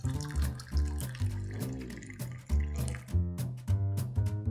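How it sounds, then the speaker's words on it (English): Hot water pouring into a cocktail glass for a hot toddy, a steady gurgling stream with rising, bubbling pitch as the glass fills, close and fairly loud. "And then we're gonna take hot water, fill the rest of the glass with that."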